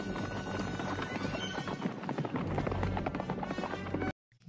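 Horse galloping in the 1985 western film Silverado: fast, rumbling hoofbeats with a whinny amid loud film soundtrack, running continuously before cutting abruptly to silence.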